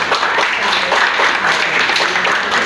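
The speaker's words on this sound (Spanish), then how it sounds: "Un aplauso." Audience applause for the third-place finisher at the final of a school reading and oratory contest, a steady wash of clapping that stays even and fairly loud throughout, with faint voices mixed in.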